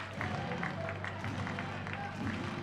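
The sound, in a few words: baseball crowd cheering for the pitcher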